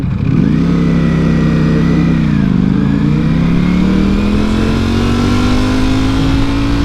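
A motorcycle rides along the street close by, its loud engine holding a steady drone that dips in pitch briefly and then climbs gradually as it pulls away, with no one talking.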